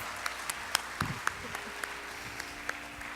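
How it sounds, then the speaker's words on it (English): Scattered, sparse handclaps from an audience after a dance performance at an Arangetram recital, faint and distant, with individual claps standing out over a quiet room. "Can we once again give them a huge round of applause?"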